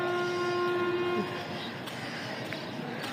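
Locomotive horn at a Pakistan Railways station in the early morning, one loud steady blast lasting just over a second before cutting off, leaving the hum of station and rail noise.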